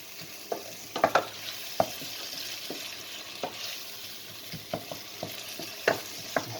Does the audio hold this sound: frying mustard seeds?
yes